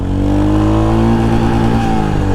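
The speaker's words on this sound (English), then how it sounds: "Oh yeah, hit the rev limiter there." A 2023 Royal Enfield Hunter 350 motorcycle engine revs hard in traffic and bangs against its rev limiter, a loud, close, continuous mechanical drone with stuttering pulses as the limiter cuts in, with no talking.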